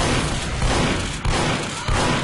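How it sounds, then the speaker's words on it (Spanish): Gunfire from a Team Fortress 2 shotgun, its blasts landing as a few heavy thumps across a dense, loud din of game noise, with no voices over it. "Escopeta, a ver si con la escopeta le doy"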